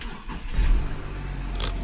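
Audi Q7 SUV engine starting with the key: a low rumble swells briefly as the engine catches, then settles into a steady idle, close and moderately loud, no talk.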